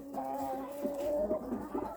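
Chickens and roosters squabbling through a net: tonal clucking and squawks from nearby birds in a steady, agitated stream, with no talk.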